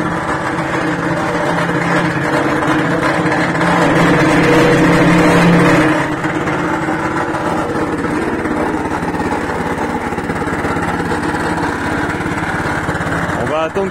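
Petrol engine of an Oxeo 760312 garden shredder idling steadily, a close, continuous mid-pitched drone with a brief louder swell partway through, running alone without talk.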